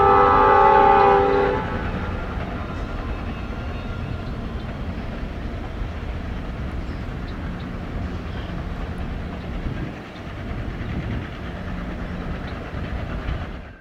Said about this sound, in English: It was the third one assigned to Kirk Yard, 866, pulling out of the yard with a movement of CSX coke hoppers.